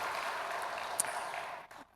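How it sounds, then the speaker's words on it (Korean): Congregation applause at a Sunday church service in Daegu, a broad steady wash of clapping from the pews that fades out near the end, fairly distant and moderate in level. "하나님께 영광의 박수를 올려드립니다."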